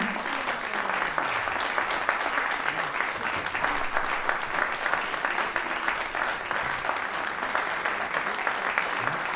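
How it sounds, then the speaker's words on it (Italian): Sustained, fairly loud audience applause in a theatre greets a classical string ensemble of soloists being introduced, the dense clapping continuing evenly throughout. "Un applauso"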